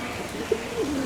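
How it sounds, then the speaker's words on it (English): A pigeon coos softly in a peaceful botanical garden on Terceira in the Azores, a single short call over quiet outdoor ambience. "I think that pigeon wants to mate with me. There's mating pigeons everywhere."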